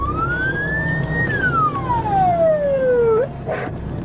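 A police car siren sweeps up and then slowly down in a single loud, close wail during a chase on a road, over steady traffic and engine rumble.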